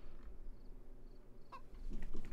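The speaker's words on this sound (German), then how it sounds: "Ich höre hier einen Huhn." A chicken clucks briefly in the survival video game DayZ, a short burst in the middle over steady low ambient game noise, with no talking.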